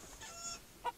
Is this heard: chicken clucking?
yes